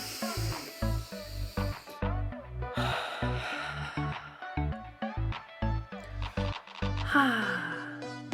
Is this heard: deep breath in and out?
yes